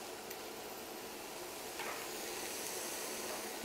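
Egg fritter mixture cooking gently on low heat in a pan, a soft, even, continuous sizzle with a faint scrape partway through.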